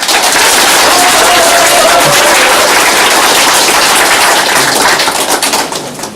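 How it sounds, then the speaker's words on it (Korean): An audience at a campaign office opening ceremony breaks into dense, sustained applause, loud and close, tapering off at the end. "함께 힘내라는 격려의 박수를 부탁드립니다."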